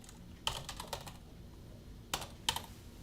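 Keys clack on a computer keyboard in a few short bursts of quick taps with pauses between, close and fairly crisp, over quiet room noise and no talk.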